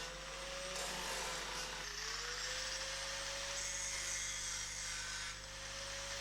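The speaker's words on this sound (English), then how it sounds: "Clean down some of those welds with the flap wheel too." A flap wheel on an angle grinder smooths down welds on a 1980 Opel Kadett historic rally car, giving a continuous high whine with abrasive grinding that holds steady for several seconds, close and alone.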